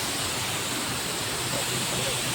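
A waterfall roars in a steady, dense rush of water, close and loud, with no pauses for the whole span.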